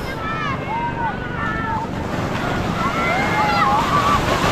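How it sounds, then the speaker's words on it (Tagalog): Steady roar of sea waves and surf washing in on the shore at Zambales, Philippines, with people talking and calling out over it. "Pero sa ngayon po ito nga dagat muna."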